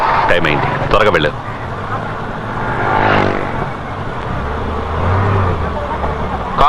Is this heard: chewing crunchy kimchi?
no